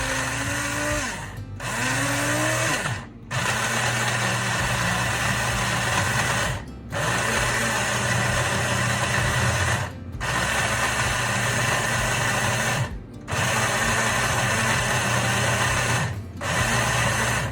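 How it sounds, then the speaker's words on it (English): A blender grinds peanuts into homemade peanut butter, running loud and close in repeated bursts of a few seconds each, separated by short pauses where the motor stops and restarts. "let it blend for a minute, and then I'm gonna stop and I'm gonna do it again"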